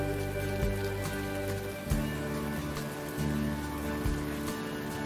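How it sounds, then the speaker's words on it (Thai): Rain falling steadily in a Thai drama scene, a dense hiss of drops on surfaces with a low musical drone underneath and occasional soft thuds, no talk. "แล้วแทนที่จะรีบหลบฝนนะ ทีเนยยังไม่หลบเลย"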